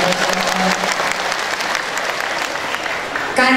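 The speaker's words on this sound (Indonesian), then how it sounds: "Tepuk tangan dulu." Audience applause at a religious talk in Sukamara, a steady wash of clapping from a crowd that fills the space at close range, with a brief voice at the start and end.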